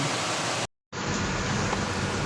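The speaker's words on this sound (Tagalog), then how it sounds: "So it's raining here in" Steady, dense hiss of rain pours without letup, broken by a brief silent gap before resuming at the same even intensity.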